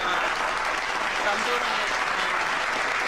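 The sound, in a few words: hand claps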